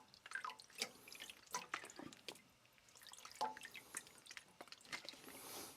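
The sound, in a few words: water dripping off knife over sink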